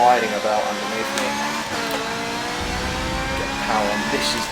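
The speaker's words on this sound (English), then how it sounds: "Just feel the car sliding about underneath me." A Ferrari race car at the Nurburgring slides about on cold tyres and accelerates, its engine droning steadily with rising revs and a brief tyre squeal, loud and close throughout.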